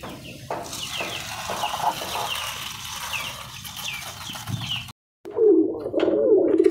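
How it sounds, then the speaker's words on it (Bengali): Pigeons, mostly males, scuffle over scattered wheat grain, with soft cooing, wing flutters and scrabbling close by, dropping out for a moment before a louder burst of cooing and flapping. "দেখেন এক জায়গাতে খাবার দিলে একটার সাথে একটা কি মারামারি করে কবুতরগুলো"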